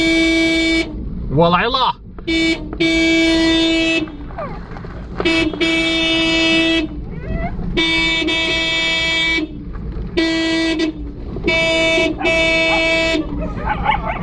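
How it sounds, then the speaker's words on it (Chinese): A car horn is honked to call a pack of stray dogs, sounding as a series of about seven loud, sustained toots in an irregular rhythm, with a person speaking and dogs barking in between. "大家看到我一按喇叭，他们就全来"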